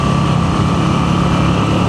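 Close, loud, steady engine hum from a Moto Guzzi V7 Sport being ridden into a curve, its low pulsing drone holding constant throughout.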